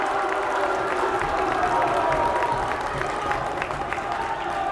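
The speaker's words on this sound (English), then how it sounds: "Head coach Stannard applauding her team." Crowd applause and cheering in a gym during a boys high school volleyball round-of-16 playoff game, a steady wash of clapping throughout with some voices mixed in.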